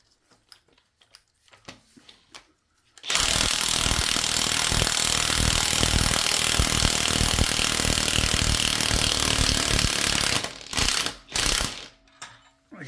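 An impact gun loosens 16 mm (5/8-inch) oil pan bolts on a 5.3 engine: a loud, continuous hammering whir runs for about seven seconds, followed by a few short, sharp bursts close by.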